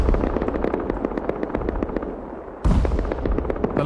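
Rapid automatic gunfire rattles in a shooting video game, dense fast bursts continuing throughout with a sharp louder burst near the end.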